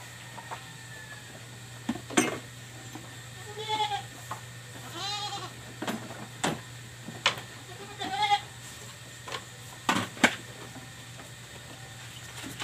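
Young goats bleat in a run of separate calls, one after another at uneven intervals, over a low steady hum with a few sharp knocks in between.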